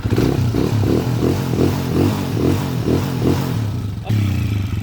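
A Honda TMS 125 motorcycle converted to 200cc idles close by with a rough, pulsing engine note and rhythmic mechanical clatter, steady and loud with a brief blip near the end.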